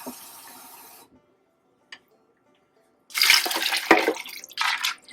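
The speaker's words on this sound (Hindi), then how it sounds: "अभी मैं इसमें थोड़ा सा पानी और डालूंगी" Water is poured into a pot of lentils being cooked for beef mince shami kabab, a brief faint trickle followed after a quiet pause by a louder, splashing pour.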